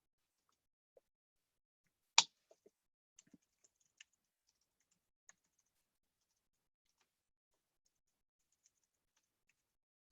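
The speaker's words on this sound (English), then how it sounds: "I'm going to start just typing a few ideas here" A few sparse, faint keystrokes on a computer keyboard in a quiet room, with one sharper tap standing out and scattered light clicks afterward, no talking.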